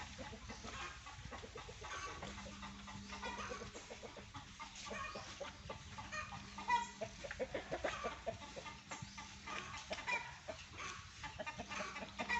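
Chickens cluck and squawk busily and fairly loudly and continuously, with dense overlapping calls and a faint steady hum beneath.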